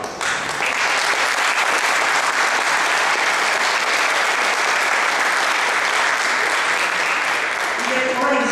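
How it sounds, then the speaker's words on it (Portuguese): A public hearing audience in Maringá on waste incineration gives long, warm, loud applause, a thick unbroken clapping with a voice faintly audible at the close. "a gente dar uma salva de palmas bem calorosa para essa mesa"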